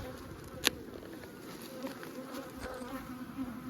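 Honey bees buzz around beehive frames in a steady, fairly quiet drone, with individual bees droning past and a sharp brief click early on.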